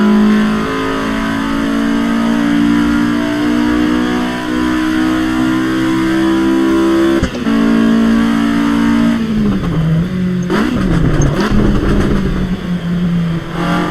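A racing car in Assetto Corsa Evo drifts with a loud, sustained engine howl at high revs that holds steady, then wavers and drops as the car slides and recovers.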